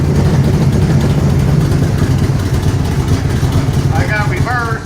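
A 1979 Camaro Z28 V8 idles at about 1,000 RPM on first start-up, a loud, steady low rumble throughout, with someone talking over it.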